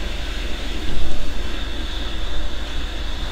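Aircraft on approach to a runway in a flight simulator video game, a loud continuous engine roar and rushing drone that swells briefly and holds steady throughout.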